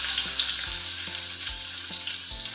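Garlic sizzles steadily in hot oil with urad dal and fenugreek, a close, continuous frying hiss with faint stirring knocks.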